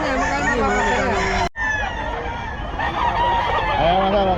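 Roosters and hens at the Bocaue pet market, including Golden Boy gamecocks, cluck and crow loudly and close up with overlapping calls, broken by a brief gap, while someone talks among them.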